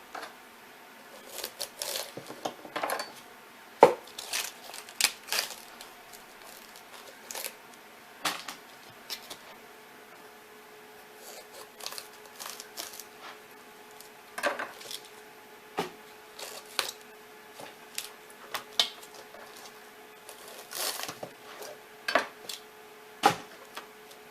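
A knife trims the stalks off a cauliflower head, giving scattered faint crisp cuts and snaps over a quiet kitchen background, with no voices.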